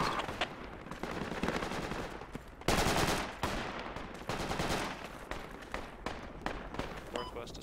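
Bursts of rifle and machine-gun fire crack repeatedly in the military shooter game Project Reality, some shots close and loud, others more distant, while players talk over voice chat between volleys.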